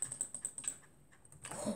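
Rapid keyboard clicking during a Bed Wars match, a quick run of close, crisp keystrokes that pauses briefly and then resumes with a denser burst of clicks.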